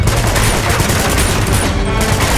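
Dense, continuous automatic gunfire from a firefight in the video game Uncharted 2, loud and sustained with rapid overlapping bursts filling the whole moment.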